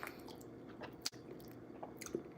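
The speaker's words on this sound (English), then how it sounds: "let me go ahead and dig into my pasta" Pasta being eaten, soft close-up chewing and moist mouth sounds at low volume, with a single sharper click partway through and no talking.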